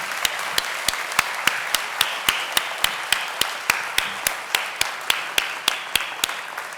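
An audience at a school district service pin and retirement banquet applauds an award winner with a steady, even run of sharp, close claps repeating at a regular pace throughout.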